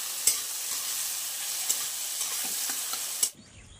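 Eggplant frying in a pan, a steady hissing sizzle with a few sharp clicks of a utensil, close, ending abruptly.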